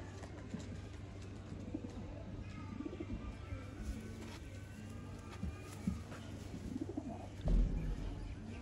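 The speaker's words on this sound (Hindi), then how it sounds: "ये दोस्तों ननकाना साहब वाले लाखे कबूतर।" Lakha pigeons of the Nankana Sahib breed coo softly in low, rolling phrases, with scattered chirps and a steady background hum and brief handling noise near the end.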